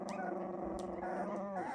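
A miniature schnauzer puppy gives a steady close growl with a couple of short sharp yips mixed in, rising into a higher whining growl near the end, with no talking.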